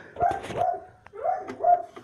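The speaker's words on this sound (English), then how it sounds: "The dog's barking. The dog's making a lot of noise." A house dog nearby gives two pairs of loud, tonal barks, each pair closely spaced, split by a short gap.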